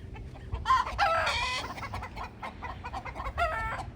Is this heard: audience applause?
no